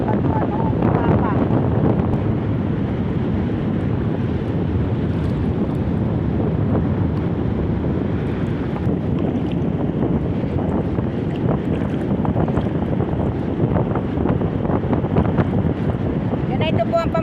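Strong wind and rough sea roar continuously against a rocky shore where people fish among the rocks, the broadband rumble loud and unbroken throughout, with gusty buffeting on the microphone.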